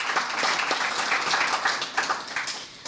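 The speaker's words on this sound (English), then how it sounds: "I think deserves a huge round of applause" Applause at a cocktail reception: dense, steady clapping from a crowd, sustained and fairly loud throughout with a slight dip near the end.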